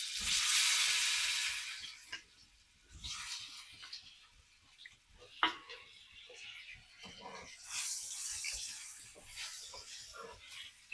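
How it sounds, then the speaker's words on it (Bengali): Potato pieces frying in hot oil for a Bengali-style aar fish dish, a quiet steady sizzle that swells and fades, with occasional scraping of a spatula in the pan. "এখন আলুগুলো আমরা ভেজে নেব।"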